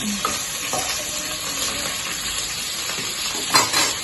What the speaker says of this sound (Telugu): ఇలా ఎండుమిర్చి, కరివేపాకు వేసుకొని అట్లాగే ఇలా కలుపుకొని